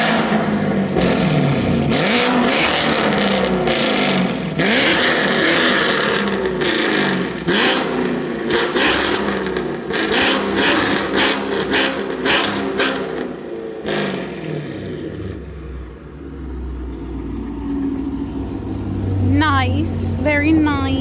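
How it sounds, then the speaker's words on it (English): Chevrolet Camaro engine revving outdoors from behind the car, a series of loud, close throttle blips rising and falling for about fifteen seconds before settling to a rumbling idle, with brief voices near the end. "get me a couple more exterior revs real in quick"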